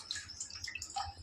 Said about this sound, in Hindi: पानी आ रहा।